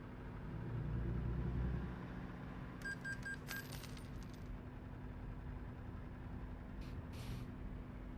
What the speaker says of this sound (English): Enjoy the truck in action.